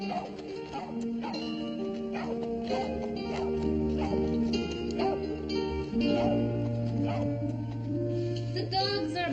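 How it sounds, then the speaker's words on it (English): Several dogs bark in repeated bursts on a western ranch, mixed in with a steady orchestral music score that runs throughout. "The dogs are barking."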